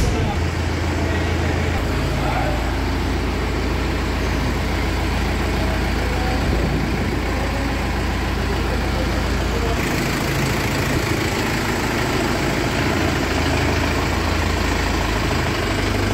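A Mahindra Yuvo Tech+ 575 tractor at a demo idles with a steady, deep engine rumble throughout, close and loud, while someone talks over it.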